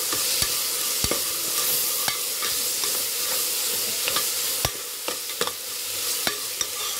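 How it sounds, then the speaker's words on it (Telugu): Tomato pieces frying in a pan with onions, a constant hissing sizzle under repeated sharp clicks and taps as a utensil stirs and strikes the pan, close and alone. "ఆ టమాటా వేసుకుంటున్నాను"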